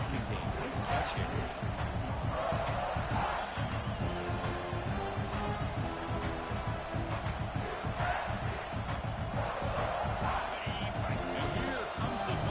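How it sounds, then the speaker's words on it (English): A dense stadium crowd roars continuously during a Texas Tech versus South Carolina college football video game, swelling and rising, with a commentator talking over the noise. "And here comes the noise. This crowd is trying to inspire this defense"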